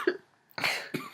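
A person coughs in short bursts, a brief cough followed by two harsher, louder coughs close to the microphone, with a short pause between them.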